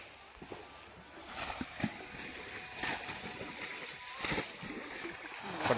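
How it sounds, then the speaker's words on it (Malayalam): Repeated splashes and sloshing water scooped and tossed while bailing out a channel in a paddy field to catch fish, with faint voices underneath. "പടയെന്ന് വെള്ളം കോരി പറ്റിച്ചുകൊണ്ടിരിക്കുകയാണ്"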